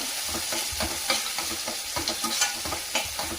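Chopped onions frying in oil in a pan for a drumstick (nuggekai) fry, with a steady close sizzle and repeated scraping stirs of a spatula roughly twice a second, and no voices.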